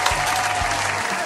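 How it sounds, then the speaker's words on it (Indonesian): Children clapping for a singer, a short burst of steady applause from a small group with a slight crowd murmur underneath. "Yuk tepuk tangan untuk teman kita satu ini."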